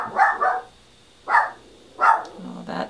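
Dogs bark indoors in three separate bursts, the first a quick double bark, with short pauses between them and a lower final bark, fairly close and clear.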